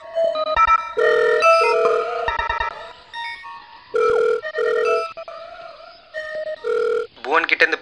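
A telephone rings with a melodic tone pattern of repeated notes, and voices talk around it.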